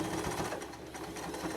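Sewing machine with a teflon presser foot stitching clear plastic, a steady, fast mechanical whirring and rapid needle chatter up close, running without pause.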